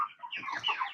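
Chickens on a farm cluck briefly and softly inside their coop, a short burst of overlapping hen calls.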